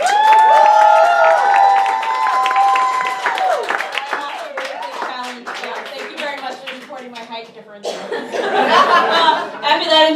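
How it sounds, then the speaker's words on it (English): Audience applause at a New York cosplay cabaret show, clapping and some laughter under and after an emcee's amplified voice and music-like tones, with louder clapping returning near the end. "give a round of applause for Miss Jessica Gonzalez"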